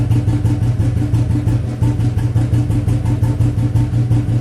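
A Royal Enfield cast-iron standard 350/500 motorcycle engine idles low and steady, its loud, even thumping pulse close and unbroken, with no talk over it.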